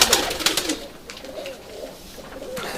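White Istanbul pigeons coo close by, fresh from an opened box, giving a run of soft, low, repeated rolling calls with no voices over them.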